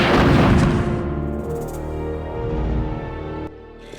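A rocket launcher shot against Nosferatu in Resident Evil Survivor 2 – Code: Veronica, one loud booming blast that rolls off over a few seconds, then a small click near the end.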